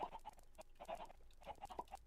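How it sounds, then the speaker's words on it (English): A crowd of chickens in the video game Minecraft clucks faintly in quick, overlapping bursts, a busy but quiet cluster of short bird calls. "You could hear the chickens right now"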